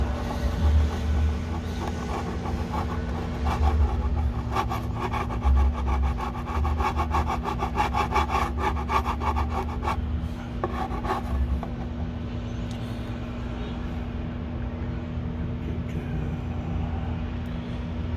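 Heated chisel scraping across burnt Lichtenberg-figured wood in steady, rasping back-and-forth strokes, loud and close, with a low constant hum and passing road traffic underneath.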